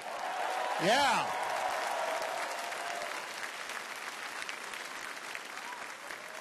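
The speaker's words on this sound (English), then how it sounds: "Can we hear a round of applause for Carly?" Crowd applause at a downtown political rally, with a loud cheer or whistle rising and falling at the start, then continuous distant clapping and crowd noise; a brief voice is heard early.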